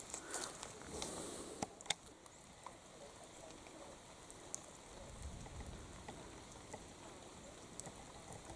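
Rain falling at a hilltop park, a soft, steady patter with scattered louder drops and occasional faint bird calls in the background.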